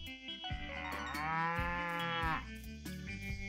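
A cow moos once in the Story of Seasons: Pioneers of Olive Town farming game, a long, loud, drawn-out bellow rising over light game music and chimes.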